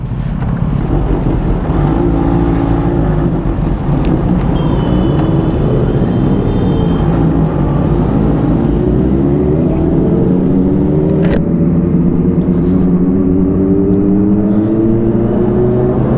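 Several sport motorcycles, including Kawasaki Ninja ZX-10R bikes and a Street Triple, ride together with a steady, loud engine drone, the pitch rising and falling as riders rev and accelerate through the gears.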